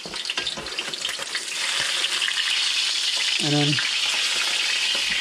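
Trout frying in a pan and flipped with a spatula, a loud steady sizzle with scraping and a brief clatter partway through, under a few spoken words.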